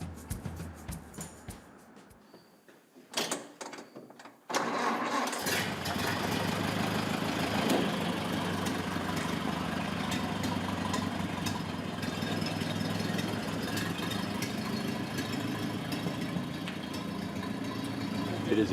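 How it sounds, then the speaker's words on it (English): After a few seconds of quiet clatter, a 1929 Ford Model A Roadster engine starts up and idles steadily with a close, continuous low rumble, and a voice speaks over it. "It is a 1929 Model A Ford Roadster."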